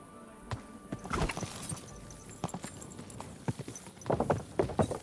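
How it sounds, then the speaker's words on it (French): Horse hooves clip-clop in a video game, a loose run of close, hollow knocks that quickens and grows denser toward the end. "Doudou, bon cheval."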